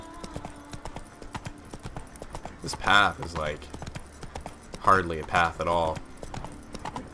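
In The Witcher 3, a horse's hooves clop steadily along a rough forest path, a continuous rhythmic patter under someone talking at intervals.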